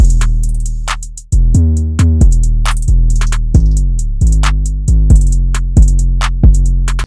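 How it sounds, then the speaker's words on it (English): Booming 808 bass and punchy kick drum in a hip-hop beat, loud repeated hits roughly every half second to second, each with a deep decaying tail and crisp hi-hat ticks on top, no voices. "So for the drums, now we have an 808 and the kick coming in."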